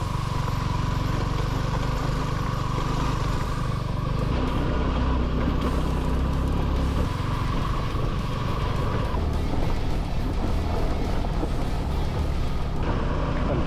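A motorbike labours up a steep off-road dirt track in Indonesia at close to 2,000 metres, its engine a loud, continuous, close drone that strains and shifts slightly in pitch.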